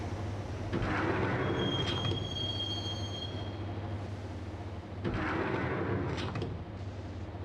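A subway train in the game Max Payne rolls along with a constant low rumble, faint wheel squeal and two sliding-door swooshes, with no talk.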